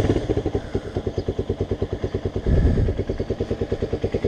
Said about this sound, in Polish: No dobra, odpalamy silniczek